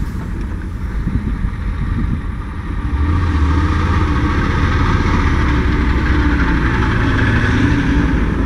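Heavy diesel engine of a logging truck on an active logging trail, a low rumbling drone that swells louder after a few seconds and holds steady, close and continuous with no talk.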